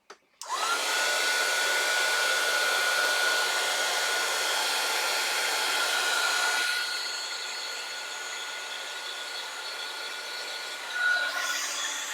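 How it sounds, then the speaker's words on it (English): A heat tool for heat setting blows hot air in a steady, loud, close whoosh with a thin whine, running unbroken for about seven seconds, then easing a little quieter until it stops. "I'm going to heat set, so it'll be a little noisy."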